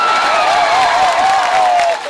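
An audience at a Gujarat election campaign rally breaks into loud, steady applause and cheering, a dense wash of clapping that holds for about two seconds. A voice can be heard through the crowd noise.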